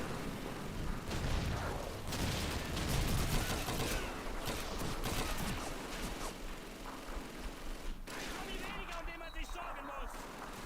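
Battle gunfire in Call of Duty 2: volleys of rifle and machine-gun shots with distant blasts rattle on steadily, while people chat casually over the noise.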